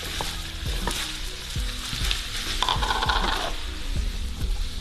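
Potatoes are tipped into beef frying in a pan and stirred, giving a busy sizzle under repeated sharp scrapes and clinks of a utensil against the pan, close and fairly loud.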